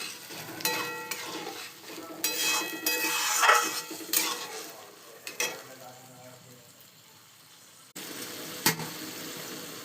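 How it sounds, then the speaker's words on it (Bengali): Boiled chana dal frying and being stirred in a pan for a vegetarian curry, with sizzling and scraping of a spoon against the pan in irregular bursts, loud and close, then quieter sizzling. "ছোলার ডাল সিদ্ধ ভালোভাবে ভেজে নিচ্ছি।"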